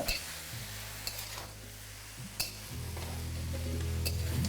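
A utensil stirs yardlong beans, potatoes and spring onions in a pan over a medium-high flame, making a few scattered scrapes and clinks over a soft, steady sizzle and a low hum, with no one speaking.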